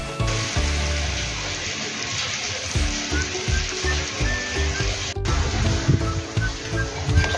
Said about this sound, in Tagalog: Hayaan lang po natin na kumatikati ang ating niluluto.